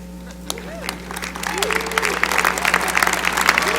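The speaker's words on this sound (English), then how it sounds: "Graduates of this college, please stand and let's cheer." A commencement crowd cheers and applauds graduates, scattered claps building into dense applause and whoops, with voices rising throughout.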